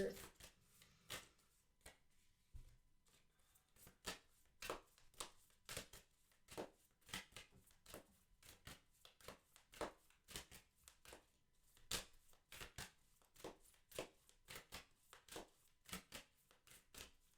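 Tarot cards being shuffled in repeated riffling bursts, close and crisp, with short pauses between rounds and no talk over them.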